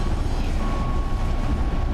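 A passenger train runs on rails near Changwon Jungang station in Korea, giving a loud, continuous rumble with a faint steady whine on top, heard from on board, with no voices.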